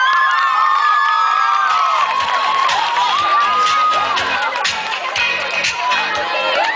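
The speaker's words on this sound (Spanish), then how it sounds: "Fuertes aplausos." A crowd at a beer festival cheers, whoops and shouts loudly and continuously for a dance performance, with high excited voices filling the space.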